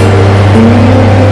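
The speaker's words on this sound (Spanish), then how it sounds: "Un solitario conductor maneja un camión de 18 llantas." An 18-wheeler semi truck rolls along a lonely highway, its engine a steady low drone with a constant rumbling hum throughout, close and loud with no voices.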